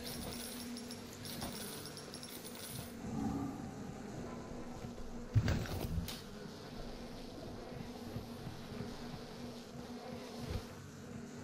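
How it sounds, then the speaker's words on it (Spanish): Bee swarm buzzing in the BioShock video game, a steady low insect drone that continues throughout with a brief louder burst partway through and no talking. "¿No te gustan las abejas?"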